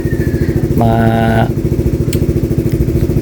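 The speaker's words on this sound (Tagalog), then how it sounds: "pinandar ko na yung motor, idle ko muna" A Rusi Flash 150X motorcycle fitted with a DBS exhaust pipe idles close by in a loud, steady, throbbing pulse, with a brief tonal whine layered over it partway through.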